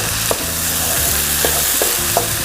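Tofu and tempeh filling with seasoning stirred in a hot pan, soft sizzling under a few distinct scraping strokes of the spatula, close and fairly loud, with no voices.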